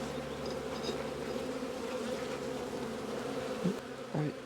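Honey bees buzz at an open hive during a late-April inspection, a dense steady drone with a few louder close passes near the end.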